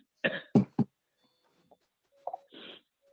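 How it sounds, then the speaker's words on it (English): A person coughs three times in quick succession nearby, then after a quiet gap gives a short throat-clearing sound and a breathy, rasping exhale. "I hope you get past that cough soon"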